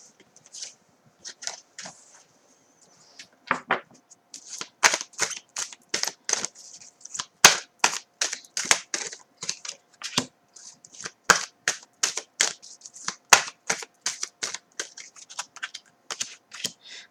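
Tarot cards being handled and slipped back into the deck, a long run of crisp, close snapping and shuffling ticks, sparse at first and then quick and steady.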